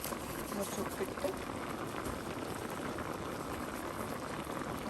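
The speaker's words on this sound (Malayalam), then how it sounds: "എല്ലാം കൂടെ ഒന്ന് തിളച്ച് വരട്ടെ" Vegetables for Thiruvathira puzhukku boiling in a covered pot, a soft, steady bubbling hiss that stays quiet and even throughout.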